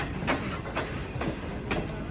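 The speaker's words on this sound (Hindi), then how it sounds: "हमारी ट्रेन अप्रोच बना रही है डिग रोड जंक्शन रेलवे स्टेशन पर।" Express train on the Islamabad to Karachi Green Line rolling into Dig Road Junction railway station, a low rumbling rush with four evenly spaced clickety-clack wheel thumps over rail joints, heard from inside a coach.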